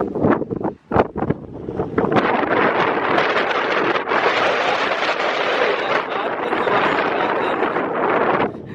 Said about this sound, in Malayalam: നമ്മളെ കൂടെ എടുത്തുകൊണ്ട് പോകുന്ന പോലത്തെ കാറ്റ്